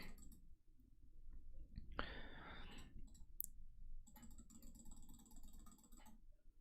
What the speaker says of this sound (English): How fast can it register you clicking?